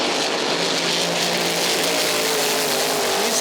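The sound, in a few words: race car backup engine running on track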